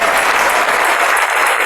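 A church congregation claps for the King during a Spanish-language sermon, the applause loud, dense and steady throughout the short stretch, with no voice on top.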